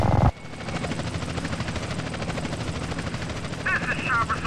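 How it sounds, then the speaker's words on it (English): A police helicopter in a video game, its rotor throbbing steadily and close for several seconds after a brief burst of other sound at the start, with a higher whine rising near the end. "This is chopper support."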